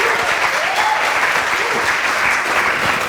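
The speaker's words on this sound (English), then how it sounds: "Let's give them a round of applause." Dense, steady applause from an audience for the women at a film awards event, a continuous wash of many hands clapping at even loudness throughout.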